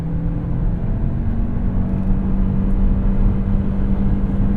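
A 2024 Lexus NX 350 Hybrid accelerating to pass, heard from inside the cabin as a loud, steady low engine drone and rumble with road noise and no talking.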